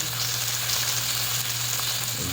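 Tomatoes fry in a pan with a dense, steady sizzle that fills the moment, close and even, with no voices.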